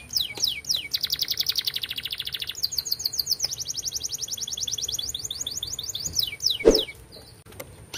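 A canary sings continuously nearby, rapid rolling trills and repeated bright chirps in long unbroken phrases, with no one speaking.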